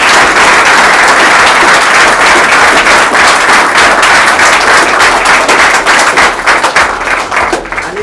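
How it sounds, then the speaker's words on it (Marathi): A crowd at a birthday gathering applauds loudly and close up, dense continuous clapping that thins into separate claps toward the end. "ह्यांच्यासाठी एक जोरदार टाळ्या."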